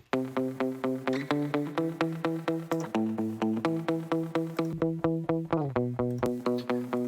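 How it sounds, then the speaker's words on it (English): A plucked guitar plays a steady rhythmic pattern of repeated notes, each attack ringing out with reverb and echoing delay tails, loud and close. "This is actually a guitar that I recorded live."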